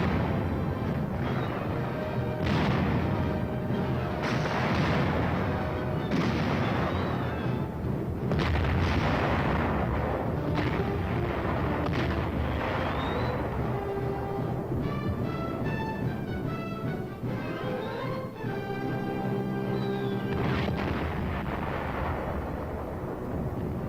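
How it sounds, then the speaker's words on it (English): Tank gun firing in combat during a UN offensive, heard as repeated loud heavy booms and blasts over a dense continuous battle roar, with no talk. "A tank adds its lethal punch."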